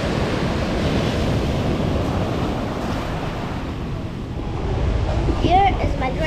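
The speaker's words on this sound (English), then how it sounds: "I'm at the beach now." Ocean waves wash in a continuous loud roar on a beach in Bali, with wind buffeting the microphone throughout.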